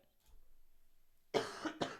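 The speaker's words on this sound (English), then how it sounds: "After I cough" A single person gives two sharp coughs in quick succession close to the microphone after a moment of near silence.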